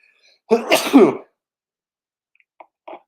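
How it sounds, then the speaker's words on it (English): One loud, close sneeze from a single person, a sharp explosive burst lasting about half a second, followed by silence and a couple of faint small noises. "I have to sneeze."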